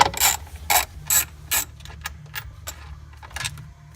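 A ratchet wrench backs out the final bolt on a shifter linkage during a bearing replacement, clicking in several short bursts with pauses between strokes, close up and with no talking.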